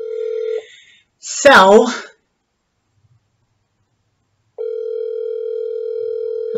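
A telephone ringback tone on an outgoing call sounds as a steady tone, cuts off, then resumes after a pause, with a short spoken word in the gap.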